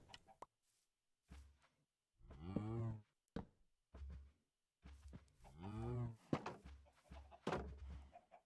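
Cows in the video game Minecraft moo several times, with two long drawn-out calls standing out among short thumps and blocky knocks, all fairly close.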